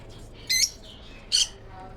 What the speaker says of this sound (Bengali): এখানে একটা নেট টিয়া পাখি রয়েছে